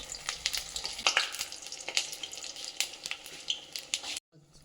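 Potato chops (aloo chop) sizzle and crackle in hot oil in a pan, a dense, fairly close frying hiss with sharp pops throughout that cuts off abruptly near the end.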